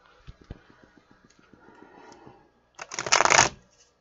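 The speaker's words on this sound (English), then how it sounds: "Pull one card for you, one card for them." Tarot cards shuffled by hand: a run of light ticking card flicks followed by a loud, brisk riffle burst near the end, close up with no talking.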